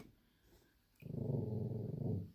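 A puppy gives a low, rumbling growl close by, starting abruptly after a quiet moment and holding steady for over a second before trailing off.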